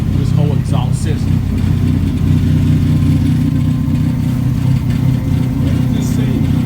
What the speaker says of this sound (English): It's a little rattling in the exhaust.